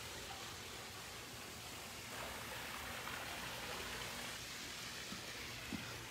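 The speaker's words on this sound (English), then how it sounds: "your water feature is on right now in the hot tub" Water runs steadily from a water feature in a backyard hot tub at a luxury home in San Antonio, a soft continuous splashing hiss at low level.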